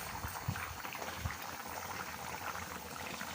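Chicken curry simmers in a pot, giving a faint, soft bubbling and gentle liquid burble that goes on steadily at low volume without any voices.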